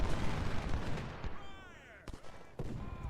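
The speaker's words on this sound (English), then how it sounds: "All right, we got artillery coming online." Artillery fire in the Civil War strategy game Ultimate General: Civil War, at the Fredericksburg battle: a few booming reports with whistling shell sounds trailing off, set against a busy battle bed.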